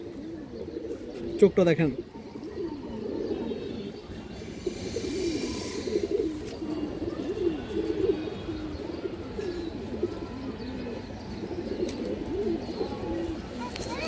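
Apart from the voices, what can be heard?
Kalibaga male pigeon cooing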